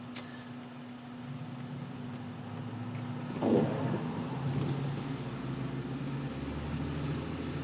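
Steady low hum of a car being driven, a muffled cabin drone with faint road rumble and a brief bump midway, heard from inside without talk.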